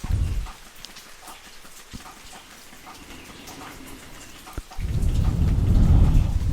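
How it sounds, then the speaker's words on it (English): Heavy rain pours down steadily on a porch in the morning, fading to a quieter patter in the middle before surging back to a loud, dense roar. "you couldn't hear the birds because of the rain sounds"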